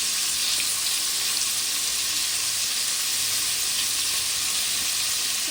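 Paneer fries in a hot pan with a loud, continuous dense sizzle that stays steady and close throughout, with no talking.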